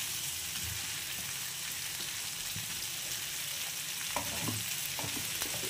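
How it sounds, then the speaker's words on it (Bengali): Ridge gourd pieces fry in a pan with steady, close sizzling while a spoon or spatula stirs them, scraping and clinking now and then, with no talking. "নাড়িয়ে নেব।"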